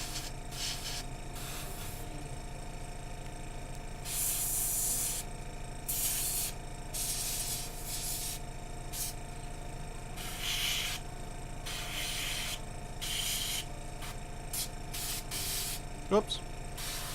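Airbrush spraying white paint onto a Reaper Hill Giant miniature, heard as repeated short hissing bursts of a few seconds each, close and moderately loud, with quieter gaps between them.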